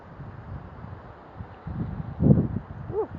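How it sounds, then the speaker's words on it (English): Outdoor wind gusting in low rumbling buffets against a microphone, swelling louder toward the end, with a brief soft voice-like sound at the close. "really windy now"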